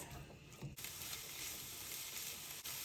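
Dandelion greens and onions fry in a pan over medium to medium-high heat, giving a steady, fairly quiet sizzle and hiss with a brief dip early on.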